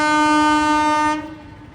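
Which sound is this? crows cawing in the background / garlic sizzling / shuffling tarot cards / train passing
train passing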